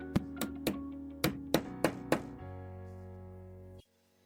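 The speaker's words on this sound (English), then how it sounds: "That means I can now position it in the holes and hammer it in." Seven sharp hammer blows drive a front fitting into a panel on a GRASS Vionaro V8 drilling jig, coming in a quick irregular rhythm at close range. A ringing tail decays after the last strike, then everything goes silent.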